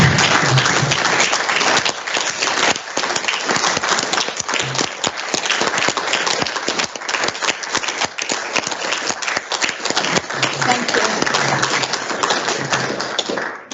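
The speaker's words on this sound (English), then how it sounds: "And this is where we stand up and do give them a clap." Audience at a council meeting standing to applaud, a long, loud, steady round of clapping that holds for about fourteen seconds before ending abruptly.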